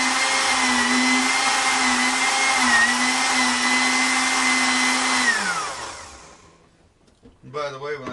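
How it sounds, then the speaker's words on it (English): A blender packed with sprouts and greens whirs loudly and steadily for several seconds while making a green smoothie, then winds down and stops, followed by a short burst of other sound. "I'm going to stuff the blender full of greens. At this point, I stick the lid on."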